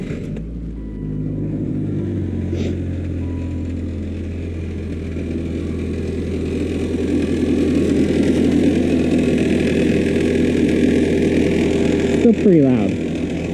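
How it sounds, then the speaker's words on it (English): A Saturn S-Series engine idles nearby with a steady low rumble and a faint whine that could be a worn AC compressor bearing, growing slightly louder over time; a brief voice speaks over it near the end. "That noise actually sounds like maybe the bearing and the AC compressor is going bad."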